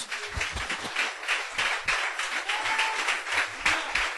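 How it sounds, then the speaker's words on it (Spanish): A church congregation applauds during a Spanish-language sermon, bursts of clapping with a pulsing, uneven rhythm and some low thumps underneath, heard fairly close throughout. "¿Cuánto le damos un aplauso al Señor, hermanos?"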